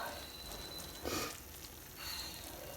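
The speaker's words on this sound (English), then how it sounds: "Sorry for my sniffles." Two quick nasal sniffles, about a second apart, close to the microphone over a faint background hiss.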